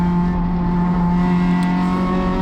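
A race car drives on track at Thunder Hill Raceway, a steady loud engine drone with strong sustained tones heard from close up, without speech.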